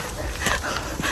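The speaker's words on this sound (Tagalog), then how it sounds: "Mabait na aso." A dog out on a walk gives a short, close burst of yips and whimpering barks lasting about a second, with no talking over it.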